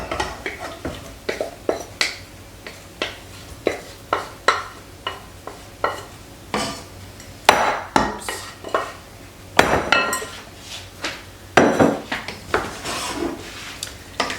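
Fresh strawberries stirred into a cooled sugar and cornstarch crepe filling in a bowl, a spoon scraping and clinking in a steady run of wet, repeated strokes, close and alone.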